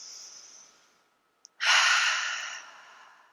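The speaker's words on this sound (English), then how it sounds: "Take a deep breath here." A deep breath during a beginner yoga session: a soft drawn inhale, a brief pause with a tiny click, then a strong, full exhale that slowly fades, heard close and alone.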